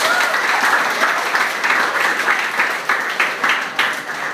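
A dense burst of applause from a church worship congregation, many hands clapping steadily and loudly throughout, close and continuous.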